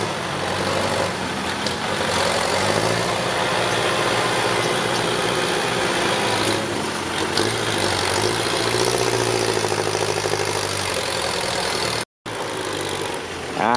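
A Kubota L4708 tractor pushes soil, its engine a loud, steady diesel drone close by, holding even throughout apart from a brief dropout near the end.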